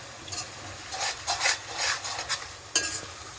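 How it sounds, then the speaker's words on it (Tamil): Ginger garlic paste for chicken biryani is stirred in a pan, making a soft, close scraping rasp in short repeated strokes over a faint low sizzle. "अदरक और लहसुन का पेस्ट भी डाल के थोड़ा इसको कच्चा स्मेल जाने तक थोड़ा पकाइए"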